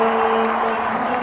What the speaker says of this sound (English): Gets everybody cheering again with that finishing attack.